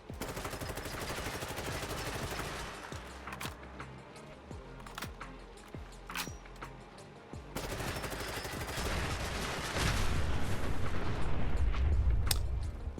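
Automatic gunfire from a standard G36 rifle in a modded Fallout 4 game, dense rapid bursts with sharp repeated cracks over a continuous rumbling game backdrop, ending in a louder heavier stretch.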